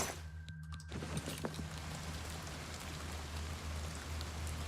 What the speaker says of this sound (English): I like that I can still hear the rain from outside the cave. It's very ambient.